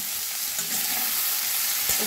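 Onion, garlic, tomato and dried red chillies fry steadily in hot oil for a dhaba-style egg curry, giving a continuous close, even sizzle with faint stirring scrapes and no voices.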